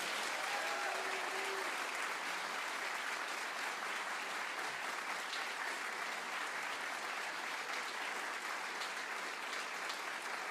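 Studio audience at a live old-time music radio show bursts into sustained applause, a dense, steady wash of clapping that continues loudly for the whole stretch without pause.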